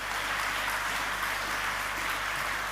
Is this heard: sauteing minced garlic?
no